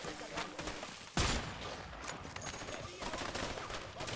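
Gunfire from the action video game A Way Out, with a sudden loud burst of shots partway through, then continued crackling fire and dense combat noise that stays busy to the end.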